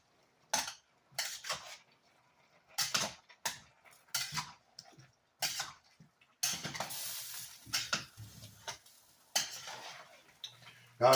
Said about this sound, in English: we're going to give this a little stir through